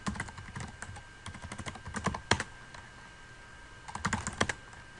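Keys tapped on a computer keyboard while commands are entered, in scattered clusters with firmer strikes around the middle and end, close and fairly quiet over a faint steady electronic whine.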